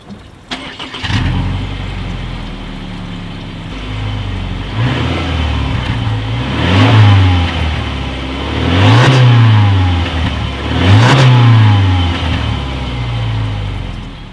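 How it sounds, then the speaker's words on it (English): A 2019 Subaru Forester's exhaust, single outlet, starts up and then revs three times in steady rising-and-falling swells over a constant idle, heard up close with no talking. "As always, here is that exhaust clip."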